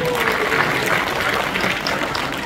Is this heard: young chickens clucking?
no